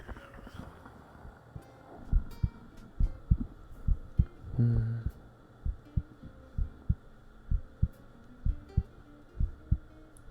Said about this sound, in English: Should we do a little bit of heartbeat searching?